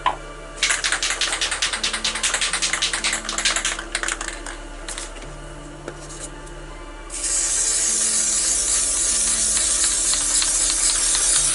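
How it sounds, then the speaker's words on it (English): Rapid clicking taps at first, then a steady loud hiss of a black spray paint can spraying continuously into a container for several seconds. "I'm just spraying black in the container."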